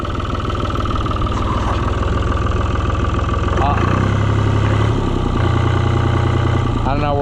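A Cockshutt 1255 FWA tractor engine idles close by with a steady, throbbing low rumble, the running rhythm loosening and wavering partway through as if fluttering, with voices talking over it.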